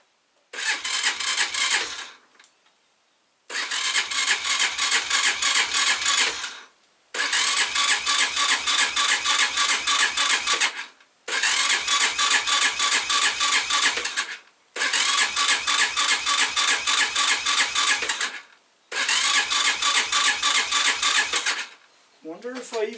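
Hanway Fighter 125cc motorcycle with the choke on, its starter cranking in six long rapid-chugging bursts separated by short silences, close and loud, the engine not catching.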